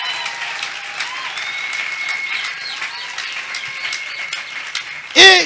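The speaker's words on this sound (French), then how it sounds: "Acclamez Jésus très très fort." A church congregation at an Easter service applauds steadily and loudly to acclaim Jesus, a thick wash of clapping with a few voices rising through it.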